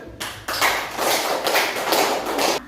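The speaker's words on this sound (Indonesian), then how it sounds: "Tepuk tangan untuk kelompok 1." Classroom applause for a student group, a burst of many hands clapping steadily for about two seconds, loud and close, with no talking over it.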